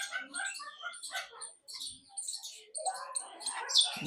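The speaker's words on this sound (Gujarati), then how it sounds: "પછી છે આ બીજા પોપટ લાલ પૂંછવાળા" Red-tailed parrots let out sharp, high chirps and squawks in irregular bursts, fairly close, at a zoo in Vadodara, with short quiet gaps between calls.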